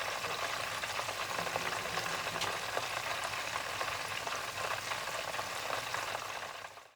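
Prawns crackle as they fry a second time in oil to crisp up, a dense, continuous sizzle with steady popping that holds evenly before cutting off at the end, no voices.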